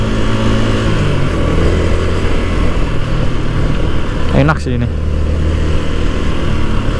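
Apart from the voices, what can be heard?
Yamaha MX King 150 motorcycle being ridden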